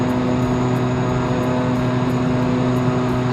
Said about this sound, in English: And like most turboprops, it's noisy outside.